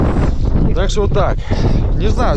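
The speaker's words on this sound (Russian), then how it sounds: "Правда, ветер, ветер." Steady wind buffeting a microphone outdoors on a fishing trip in Timashevsky District, a low roaring rumble running throughout while someone talks over it.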